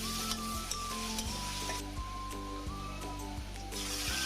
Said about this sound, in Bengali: দিয়ে একটু পেঁয়াজটা ভালোভাবে ভেজে নিব।